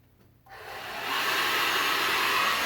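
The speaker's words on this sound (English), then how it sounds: "what I want you to do is get a hair dryer" A hair dryer switches on after a quiet moment, ramping up to a steady, loud whooshing roar that continues to the end.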